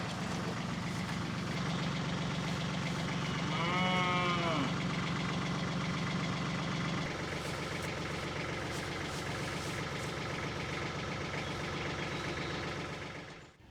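Sheep bleat out in a grassy orchard pasture, one clear wavering call standing above the steady low hum of an idling engine in the background.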